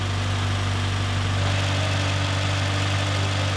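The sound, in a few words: DSM car engine running with blown head gasket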